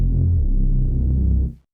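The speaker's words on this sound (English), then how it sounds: "The little bit of noise you're hearing here actually is coming from the DAWg, the tube saturation." Reese bass synth run through DAWg tube saturation: a deep, throbbing low drone with gritty, faint saturation noise on top, sustained and loud before cutting off abruptly, with no voices.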